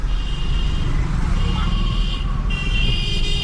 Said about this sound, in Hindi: चलो तेज करके सेकंड गियर लगाओ।